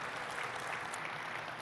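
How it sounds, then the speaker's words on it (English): Audience applause at a SOLIDWORKS 3DEXPERIENCE World 2025 conference session, a steady, dense wash of clapping that fills the hall evenly at moderate distance, with no voices heard. "An applause for Jason"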